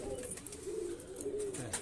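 Soft, low pigeon cooing rises and falls in a couple of drawn-out phrases, fairly quiet, with faint chirps and rustling in the background.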